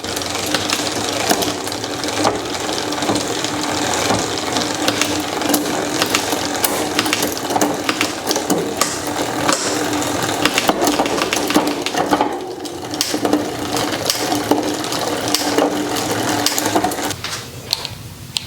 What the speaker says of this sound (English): Now there's some noise, but that's because my chain line is kind of bad on this bike.